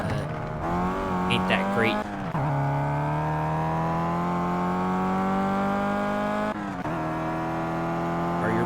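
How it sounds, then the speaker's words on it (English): A racing car in the video game Project CARS revs loudly with a steady, sustained engine whine that dips briefly during shifts or braking, while someone talks over it. "I'm hearing some squeal under braking."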